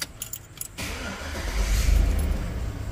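Keys jingle briefly, then a Chevrolet Suburban's engine cranks and catches, settling into a loud, deep, steady idle up close. No one speaks over it.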